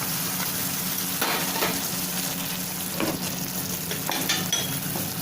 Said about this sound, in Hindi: इसको थोड़ी देर भूनेंगे, 2 मिनट भूनेंगे इसको।